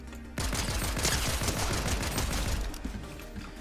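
Rapid pistol fire in the video game Fortnite comes as a loud, dense string of shots in quick succession, nearly continuous for about three seconds after a brief quiet start.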